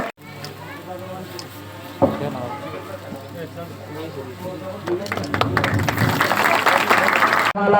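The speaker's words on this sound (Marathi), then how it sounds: "टाळ्यांचा कडकडाट झाला पाहिजे" A crowd at a political rally breaks into applause, the clapping swelling into a dense, loud wash in the latter half while an amplified voice carries on over it.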